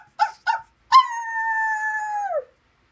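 A dog gives two short yips, then a single long, clear howl that holds steady before sliding downward and fading, close and fairly loud in otherwise silent surroundings.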